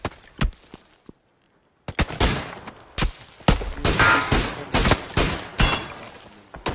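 Gunfire in the PUBG video game, heard as rapid loud bursts of automatic shots with a short pause, then sustained close volleys.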